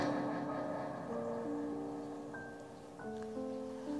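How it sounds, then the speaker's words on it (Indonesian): Heavy, persistent rain falls as a continuous soft wash, with faint sustained tonal sounds drifting over it. "Hujannya deras dan awet."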